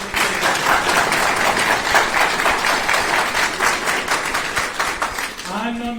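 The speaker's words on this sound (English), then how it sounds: "And one big round of applause for all three directors." Sustained applause from an audience honouring three directors at a moot court competition event, dense clapping that fills the room steadily for several seconds before thinning out at the very end.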